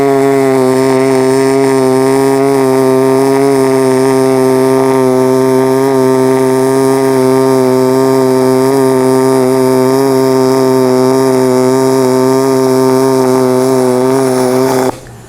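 A Power i-MIG 253DPi MIG welder runs a bead of 4043 wire across 1/8 inch aluminum plate, a loud, steady buzzing hum held close for about fifteen seconds before cutting off abruptly, with no talking.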